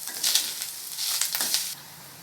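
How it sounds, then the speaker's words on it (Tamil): Salt stirred into a hot pan of seasoning for coconut rice, giving a soft, continuous sizzle with scraping stir strokes that come and go before fading near the end. "உப்பை சேர்த்துட்டு அப்படியே கலந்து கொடுத்துட்றேன்."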